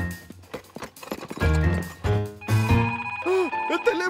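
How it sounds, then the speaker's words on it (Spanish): A cartoon telephone bell rings in short bursts amid lively music and sound effects, with talking around it, in a Spanish-language Curious George episode. "¡El teléfono!"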